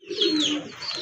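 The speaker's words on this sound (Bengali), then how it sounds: "আকাশি কালারের একটা সিঙ্গেল মাদি কবুতর।" A single sky-blue female pigeon coos in a low, rolling phrase close by, held steady for about a second with faint higher chatter over it.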